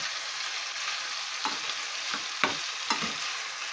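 Chicken pieces sizzle and fry in a pan with mint, a steady bright crackle throughout, punctuated by a few sharp scrapes and clicks as the meat is turned.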